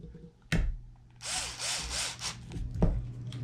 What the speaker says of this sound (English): never use a drill on plastic, you'll strip it